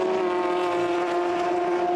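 Audi number 7 race car pushing hard in the final laps at the 24 Hours of Le Mans, a loud, steady high-revving engine whine held throughout, close by.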